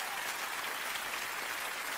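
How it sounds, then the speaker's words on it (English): An audience applauds steadily for the singer at a Eurodisco concert, a dense, even wash of clapping that holds throughout with no speech on top. "applaudissons encore"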